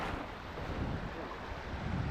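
Wind and choppy waves wash around a small boat on Lake Keta, a steady broadband rush with low rumbling buffets of wind against the microphone, no speech.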